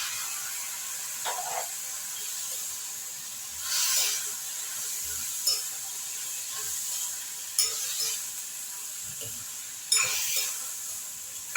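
Onion, chili, capsicum, carrot and tomato fry in a pan on a gas flame, a steady soft sizzle with occasional scraping stirs every couple of seconds, fairly quiet and with no talking.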